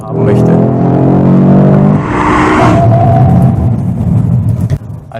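A 2022 Audi RS3 driving through S-curves on the road, its engine a loud, steady, close rumble and drone throughout with no pauses.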